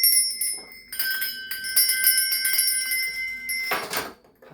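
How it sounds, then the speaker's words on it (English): Metal bells ring for space cleansing, several bright strikes with long shimmering sustained tones, close and clear, ending in a final jangle before fading out. "I am going to be ringing some bells. This is just to cleanse the space around us."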